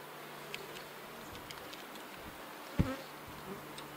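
Honeybees buzz faintly around an open hive with brood frames being inspected, a soft continuous hum with a few closer insect passes and one brief nearby knock.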